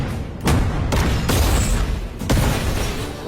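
Explosion blasts from a dubbed Hindi action movie come as a few heavy, loud booms in quick succession over a dense, roaring rumble.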